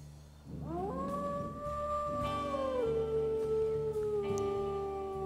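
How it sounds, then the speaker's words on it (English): Wolves snarl at each other in the Wolf Quest 3 video game, a loud, sustained, tonal, whining growl lasting several seconds with no talking. "those two are growling at each other"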